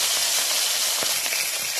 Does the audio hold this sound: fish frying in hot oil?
yes